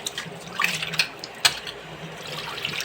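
Water runs and splashes as fish is scrubbed by hand with salt and rinsed, producing intermittent close sloshes, trickles and drips with no voice.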